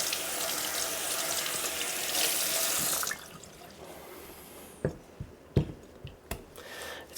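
Tap water runs steadily over a Japanese natural whetstone from Gunma, a loud rushing stream that stops abruptly, followed by scattered drips and small knocks as the rinsed stone is handled.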